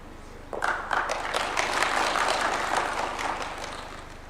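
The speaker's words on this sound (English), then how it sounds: "Another round of applause for Chief Justice." Audience applause at a formal government ceremony presided over by the president, a moderate round of clapping that starts suddenly, holds steady and gradually thins out, heard fairly distant in a large room.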